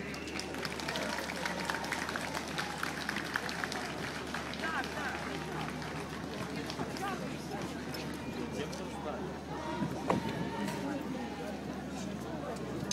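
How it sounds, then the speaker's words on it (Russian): A crowd in Shevchenko Park in Odesa on 9 May applauds a World War II veteran with steady, dense, outdoor clapping throughout, and voices murmur underneath. "Ваши аплодисменты."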